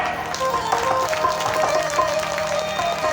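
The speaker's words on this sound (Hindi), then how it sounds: "बहुत सुंदर सुंदर तालियां हो जाए।" Audience applause at a religious discourse gathering in Chhapra, Bihar, a steady spread of clapping from a crowd that holds at an even level throughout.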